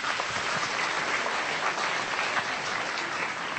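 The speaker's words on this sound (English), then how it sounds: "Another round of applause, please." Dense, continuous applause from a large crowd at an awards ceremony as a presenter is called to the stage, loud and even for the whole stretch without voices.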